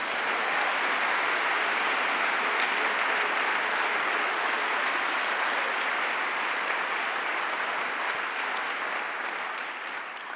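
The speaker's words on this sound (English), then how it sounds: "A round of applause for Shelley Pingree, please." Sustained, even applause from a lecture audience honouring a congresswoman, steady and full for about ten seconds before easing off slightly at the close.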